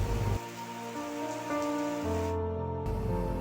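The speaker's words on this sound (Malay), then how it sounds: "Tahun baru 2021 ini bermula dengan cuaca hujan yang sangat lebat," Heavy rain falls as a steady, dense wash with a broad hiss during the Pahang flood of January 2021 in Kuala Lipis, continuous and loud from start to finish.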